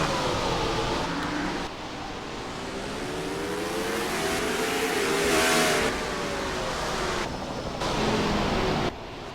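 Race cars pull away at the green flag of the LA Strong 250 at the LA Coliseum in NASCAR Racing 2003. A continuous engine roar rises and swells in waves, with no voices.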